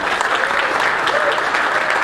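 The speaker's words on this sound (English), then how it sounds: "Can I hear a round of applause for the ProRes" Loud, steady clapping from a conference audience at a presentation on Apple's ProRes, a dense even patter of many hands throughout.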